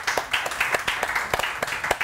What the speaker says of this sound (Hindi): तालियां कहाँ हैं आज?